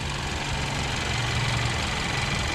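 A 2021 Hyundai Kona's 1.6-litre turbocharged T-GDI petrol engine runs at a steady idle, producing a continuous low hum with a faint tonal drone, heard close and alone.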